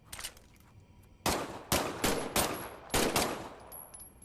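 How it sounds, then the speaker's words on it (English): Gunfire in the Medal of Honor video game as a weapon is test-fired: a few faint early shots, then a rapid string of about six sharp loud bursts in quick succession, with no talking. "Why don't you test fire your weapon?"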